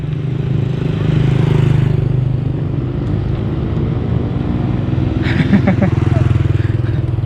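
A motorcycle approaches along a road in Laos, its engine droning steadily and loud throughout with a rising rumble as it nears, while a person talks over it.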